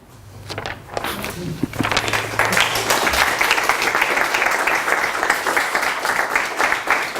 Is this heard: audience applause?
yes